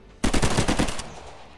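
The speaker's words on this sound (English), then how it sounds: "Hoping this machine gun can just wipe a load of these out now." Rapid burst of automatic machine gun fire in the video game Forgotten But Unbroken, about eight close, loud shots in quick rhythm lasting under a second before trailing off.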